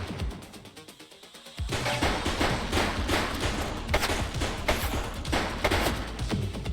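A suspect firing a gun in the police game The Precinct: after a quieter opening, a sudden loud burst of rapid shots starts and continues, with crashing impacts mixed in.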